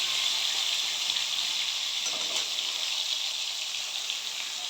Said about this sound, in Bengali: আলুতে দিয়ে দিয়েছি, একটু ভালো করে আগে ভেজে নেব